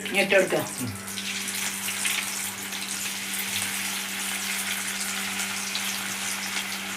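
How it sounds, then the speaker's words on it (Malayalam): Marinated chicken fries in a hot pan for an Eid meal. After a short clatter at the start, a steady, even sizzle and hiss carries on alone with no talk. "നമ്മൾ ചിക്കൻ പൊരിക്കാനുള്ള പരിപാടിയാണ്"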